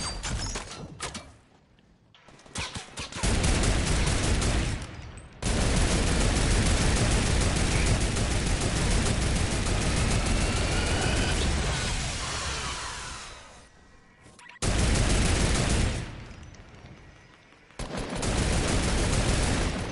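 Sustained, loud, dense gunfire in a shooting video game, long stretches of heavy rattling noise broken by a few abrupt pauses, with no talking.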